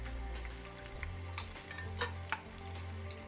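Curry leaves and garlic sizzle steadily in hot oil for a tempering for tomato pickle, with a few sharp crackles and pops over a constant frying hiss.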